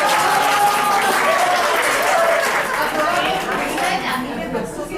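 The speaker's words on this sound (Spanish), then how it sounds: "Un aplauso, por favor." An audience at a soft-skills workshop breaks into loud, dense applause mixed with chatter, close and steady before tapering off toward the end.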